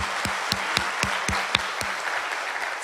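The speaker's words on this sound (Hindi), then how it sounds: "एक बार जोरदार तालियां आप लोगों के लिए हो जाए।" Loud applause from a seminar audience, a dense wash of clapping with a few sharp rhythmic claps standing out at a regular beat through the first two seconds before easing off.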